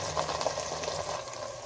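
Tomato cooking over medium heat in a pot, a steady soft bubbling and simmering hiss with no voices, even and continuous throughout.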